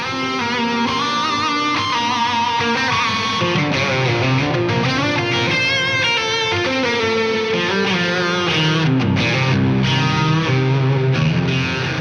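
Electric guitar through UAFX Orion Tape Echo and Evermore Studio Reverb pedals, washed in reverb and echo, playing continuously and loudly with sustained chords and melodic lines throughout.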